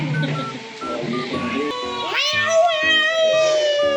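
Cats meowing outside in front of a house, several loud, drawn-out meows rising and overlapping one after another, close and continuous with background noise behind them.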